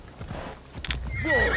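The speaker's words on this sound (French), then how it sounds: "pardon le cheval" A horse in Assassin's Creed Shadows gives a loud, close whinny with a wavering, rising and falling pitch, preceded by hoof clip-clops and a short snort.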